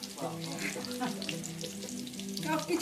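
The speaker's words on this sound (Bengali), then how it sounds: "পাকোড়া ম্যারিনেট করে পাকোড়া ভাজা হচ্ছে" Marinated pakoras fry in hot oil in a pan, a steady close bubbling sizzle lasting throughout, with faint voices in the background.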